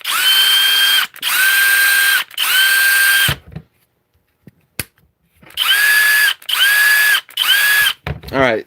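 SKIL 12V PWRCORE brushless drill driver runs in loud close bursts, three whirring spins, a pause with small clicks, then three more whines and a ratcheting rattle.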